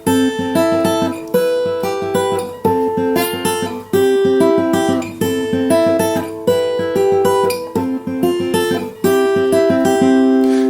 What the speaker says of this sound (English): the lead guitar in the acoustic version